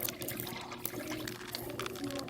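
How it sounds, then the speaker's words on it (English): Cooking oil poured into a pan while preparing a batch of chicken wings, a short liquid splash and glug with light clatter, close and fairly loud. "Pour in some oil."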